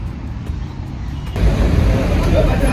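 Road traffic in Kenya near a flyover, a broad rushing rumble that swells partway through as vehicles pass close by, steady and fairly loud.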